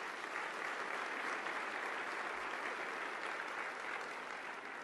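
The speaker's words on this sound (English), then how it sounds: "Let's give them a big round of applause." Audience applause filling a regional chamber of commerce annual meeting in Little Rock, a steady dense clapping from a large crowd that holds evenly for the whole stretch without voices.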